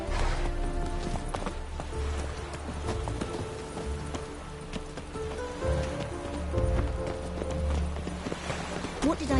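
Hooves of a horse clip-clop in quick galloping rhythm in the video game Witcher 3, with rustling ambience and in-game voices talking over the hoofbeats.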